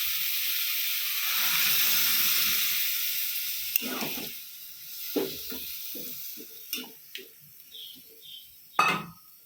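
Water poured into a hot pan in a home kitchen hisses and sizzles loudly for a few seconds, then dies away into a handful of sharp utensil clinks and taps close by.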